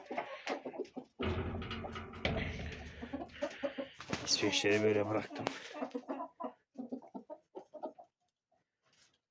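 An angry hen clucks agitatedly in rapid, loud bursts, with sharp squawks mixed in, while a person speaks briefly nearby; the clucking trails off into softer calls.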